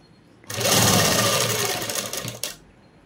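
Sewing machine stitching fabric for a Kalamkari dress, a loud steady mechanical whirr running for about two seconds before stopping, with quiet before and after.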